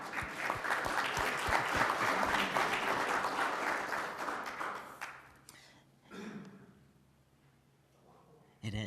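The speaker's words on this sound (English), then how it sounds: "Give her a nice round of applause." A meeting audience gives a round of applause, dense clapping for about five seconds before it fades, followed by quieter room noise and a brief burst of sound at the end.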